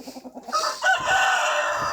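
Chickens cluck in a quick run of short calls, then a rooster crows loudly nearby, with more clucking continuing underneath.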